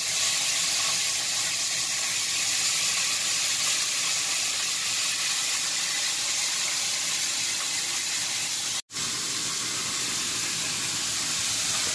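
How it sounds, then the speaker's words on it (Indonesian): Food fries in a pan with a loud, steady hiss and sizzle that fills the room during a New Year dinner cook in Hong Kong, broken by one brief dropout near the end. "Lagi proses goreng."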